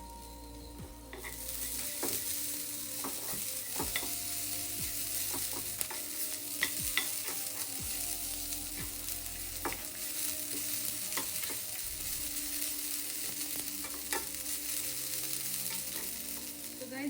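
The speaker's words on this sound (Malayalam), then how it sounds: "നമുക്കിനി ഇതിലേക്ക് കുറച്ച് നാളികേരം ചേർത്ത് കൊടുക്കാം. നാളികേരം ചേർത്തിട്ടൊന്ന് റോസ്റ്റ് ചെയ്യാം." Grated coconut roasting in a hot pan, a continuous close sizzle broken by repeated scraping stirs throughout, with no voices.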